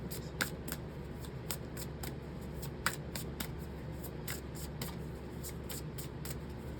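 Tarot cards being shuffled, a quiet series of crisp riffling flicks repeating in a loose, uneven rhythm close by, with no talk over them.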